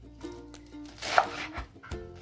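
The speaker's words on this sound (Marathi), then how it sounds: "आपण आता हे सगळं बारीक चिरून घेणार आहोत" A knife chops mustard greens quickly against a cutting board in a series of sharp, irregular taps, close by, with no talking.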